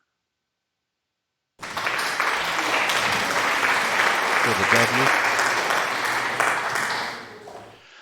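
Loud, steady applause from a crowd bursts in after a moment of silence, sustained for several seconds before tapering off at the end.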